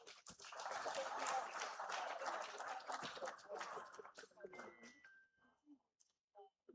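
An audience at the Arise Africa Summit claps, a dense burst of applause that swells and then thins out into scattered claps and faint voices before fading away.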